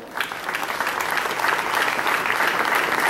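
Sustained applause from an audience at a civic ceremony in Papantla, steady and dense throughout with no voices on top.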